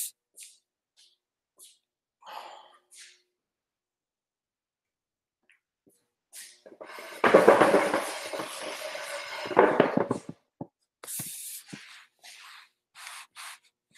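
Scattered brief scrapes and taps, then a steady hissing spray from a paint spray gun applying metallic car paint at about 29 PSI for a few seconds, followed by more short clicks and bursts of hiss.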